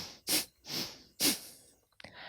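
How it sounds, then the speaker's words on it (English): Bhastrika yoga breathing: three forceful, rushing nasal breaths alternating exhale and inhale, close and airy, followed by a brief softer puff, in a quiet room. "we forcefully exhale and we forcefully inhale."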